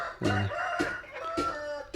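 Chickens call close by in short bursts, three or four clucking, crowing cries in quick succession with no talking.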